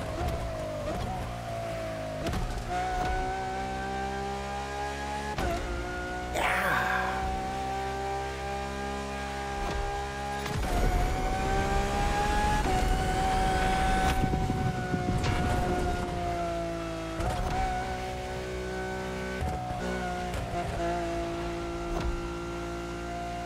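Lamborghini Countach engine in The Crew Motorfest racing game, revving hard with rising and falling pitch sweeps as it accelerates through gears, loud and continuous throughout with no talk.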